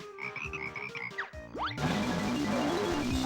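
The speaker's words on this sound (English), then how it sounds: "The yellow tree frogs. Dart frogs." Yellow tree dart frogs in Banjo-Kazooie let out repeated cartoonish croaks and boing-like chirps, loud and close, over steady game music with no talking.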